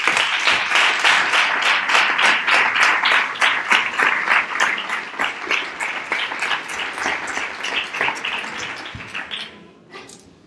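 Audience at the Kings and Stars proclamation and coronation in Nerva applauding the mayor of Nerva, a dense steady burst of many hands clapping that carries on strongly before tapering off near the end.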